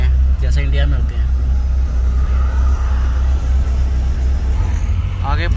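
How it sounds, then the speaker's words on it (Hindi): Police vehicles and backed-up traffic on a crowded hillside road in Mexico, a steady loud rumble of car and truck engines passing close by, with faint voices in the background. "आगे पुलिस की गाड़ियाँ जा रही हैं"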